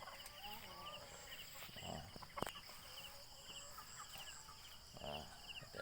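Native chickens kept in a shaded yard among banana plants cluck and call over a steady bed of outdoor noise, with a few louder calls and a sharp knock partway through.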